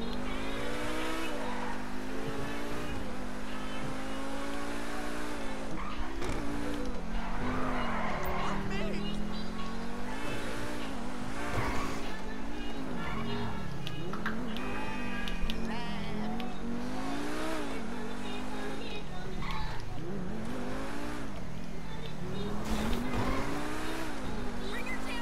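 Car engine drones and revs continuously while being driven in GTA V, with tire squeal and skids mixed in and a voice talking over the steady, loud engine noise.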